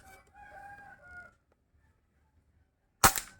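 After a rooster crows in the distance and a quiet pause, an air gun fires a lead pellet into a wall with one short, sharp crack.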